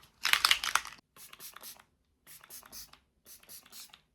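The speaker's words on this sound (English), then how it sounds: "I'm just going to set it with the e.l.f. Stay All Night setting spray" e.l.f. Stay All Night setting spray misted from a pump bottle, one longer burst followed by three shorter hissing sprays, close and clear with silence between.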